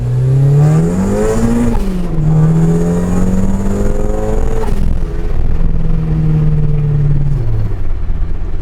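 A turbocharged Mazda Miata with a newer six-speed transmission accelerating hard, its loud engine note climbing, dropping at each gear change and climbing again, close and continuous with no talk.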